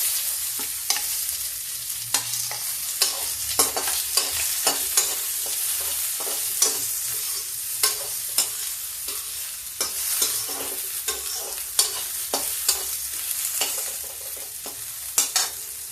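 Onions sizzle steadily in a hot pan while a spoon stirs and scrapes at regular intervals, crackling and close up.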